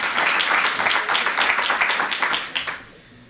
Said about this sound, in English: it might be applause as they come up